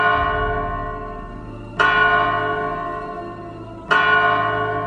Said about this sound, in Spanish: las campanas tocaron la tercera llamada